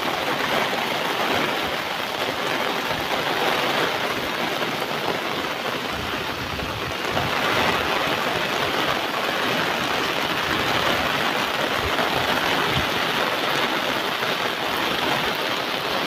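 Heavy monsoon rain pours steadily in the Konkan countryside, a dense, continuous hiss of drops drumming on surfaces and running water, loud and unbroken throughout with no voices.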